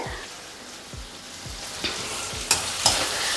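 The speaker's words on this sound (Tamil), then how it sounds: "தக்காளி வதங்குதுங்க" Tomatoes sauté in a pan as a steady soft sizzle while a spoon scrapes and stirs a few times, with a couple of sharper clinks near the end.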